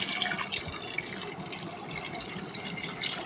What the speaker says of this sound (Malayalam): ഇനി നമുക്ക് ഇതിൻ്റെ മേലോടി നിൽക്കും പോലെ വെള്ളം ഒഴിച്ചു കൊടുക്കണം